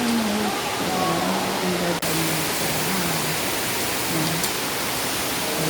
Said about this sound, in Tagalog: Ang ingay. Ang lakas ng tubig guys.